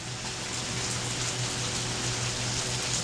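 Rain falling outdoors near a covered shelter, a dense continuous hiss of drops pattering on surfaces, steady and fairly loud with no voices over it.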